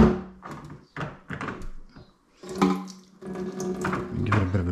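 Tap water runs from a faucet over snapper fillets being rinsed before skinning, a steady splashing flow broken by brief pauses and shifts as the fish is moved under the stream.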